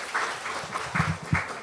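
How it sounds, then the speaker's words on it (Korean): A congregation at a Sunday service in Onnuri Church Osaka gives a brief, moderately loud burst of clapping with a few uneven pulses. "다시 한번 하나님께도 큰 박수 올려드리겠습니다."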